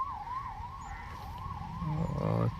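An ambulance siren wails in a steady rising-and-falling yodel over road noise, with a deeper vehicle rumble swelling near the end as it draws close.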